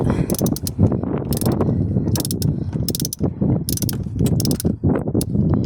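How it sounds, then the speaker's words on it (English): A ratchet wrench clicks in quick, repeated bursts while loosening a fitting during an oil change on a Vauxhall Adam, loud and close with a mechanical rattling rhythm throughout. "Right, okay, so ratcheting."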